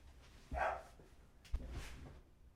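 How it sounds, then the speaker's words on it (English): Dogs bark in two separate bursts about a second apart, fairly faint and somewhat distant against a quiet background. "Stupid dogs."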